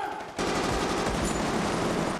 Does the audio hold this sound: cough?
no